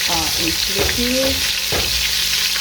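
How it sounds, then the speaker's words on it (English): Beef for ossobuco browning in a hot pan on high heat, a steady loud close sizzle and spatter throughout, with brief scraping stirs. "and then we flip it over. You see it's browning in nicely."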